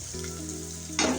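Chopped onion hitting hot oil in a wok, a sudden sharp sizzle that bursts in at the very end after a short, quiet hum.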